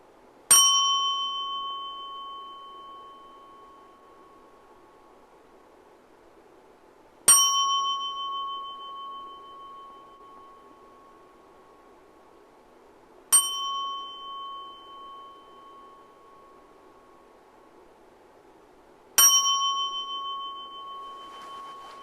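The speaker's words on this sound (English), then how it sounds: "closing bells." Four closing bells are struck at the end of a Zen Buddhist service, each a single clear metallic ring spaced about six seconds apart, ringing out and fading slowly in a quiet room.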